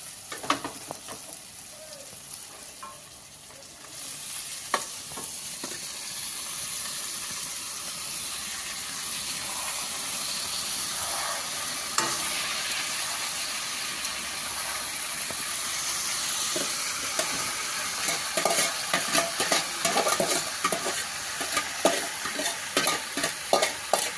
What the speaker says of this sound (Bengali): সিদ্ধ করা মশলাটা দিয়ে দিলাম এখন